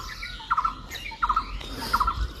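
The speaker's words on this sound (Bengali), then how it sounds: "যে ডাকছে বুলবুলি" A bulbul calls outdoors in a village garden in the morning, three short, bright, chattering bursts spaced evenly, fairly close, with no talk.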